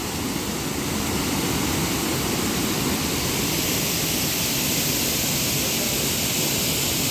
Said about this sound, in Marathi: आणि हा धबधबा आहे.